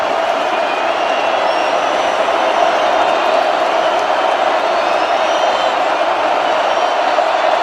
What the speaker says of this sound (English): Now the SC faithful making some noise